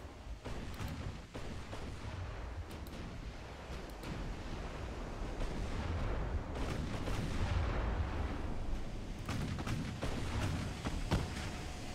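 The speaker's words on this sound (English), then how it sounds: "It looks like all of my guns are able to fire." Naval guns firing in a dreadnought-era battleship battle, a continuous rumbling roar of distant artillery booms layered over a windy, surf-like wash that holds steady throughout.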